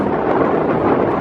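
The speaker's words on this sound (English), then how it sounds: "I'm trying to block the wind." Strong wind buffets the microphone near an Ohio interurban railroad bridge, a steady, loud, rumbling roar that fills the whole moment with no voices.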